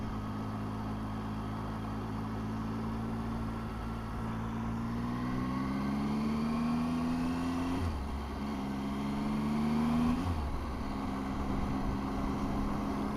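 A 2018 Triumph Tiger 800 XRT motorcycle pootles along at low speed, its engine a steady, even drone that climbs gently in pitch, dips twice as gears change, and stays moderately loud throughout.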